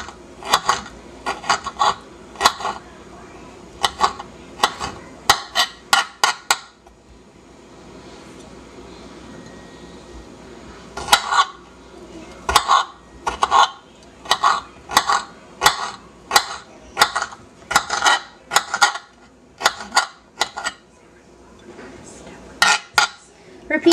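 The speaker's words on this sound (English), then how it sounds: "Now we're going to cut the garlic." A knife chopping garlic into small pieces on a cutting board while making Chaldean dolma, with bursts of sharp rhythmic taps separated by a quieter pause in the middle, close and crisp.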